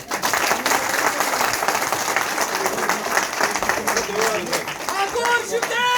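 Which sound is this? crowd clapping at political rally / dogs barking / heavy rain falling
crowd clapping at political rally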